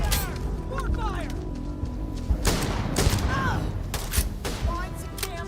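Rapid video-game gunfire crackles in bursts with occasional heavier booms, mixed with shouted voices and a busy, continuous battle din.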